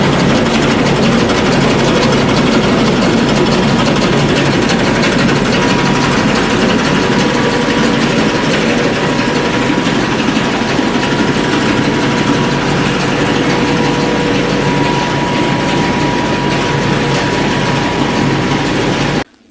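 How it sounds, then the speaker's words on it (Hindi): A mini flour mill (atta chakki) grinds wheat into flour with a loud, steady mechanical roar and rattling hum that runs unbroken for nearly twenty seconds before cutting off. "किस तरह से हमने गेहूं को ग्राइंड करके आटा पीसकर आपको दिखाया है"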